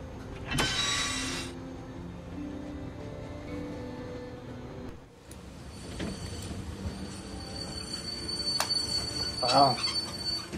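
A train rolls along with steel wheels squealing in shrill, sustained screeches and rumbling carriage noise, loud and near, with scattered clanks and no clear voices.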